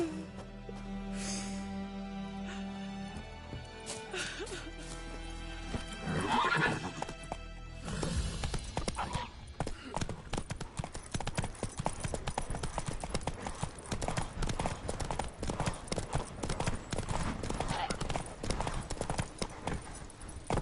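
A horse in The Witcher 3 video game whinnies loudly, then breaks into a rapid, steady galloping clip-clop that continues close and prominent to the end, with faint game sounds early on.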